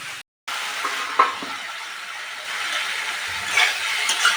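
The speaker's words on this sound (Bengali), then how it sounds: "ধনে, জিরে, লঙ্কা গুঁড়ো, হলুদ গুঁড়ো সব দিয়ে ভালো করে কষে নিতে হবে" Ground spices (coriander, cumin, chili and turmeric powder) fry in oil for a Bengali fish curry, a steady close sizzle with soft stirring scrapes and a few sharper crackles, no talk.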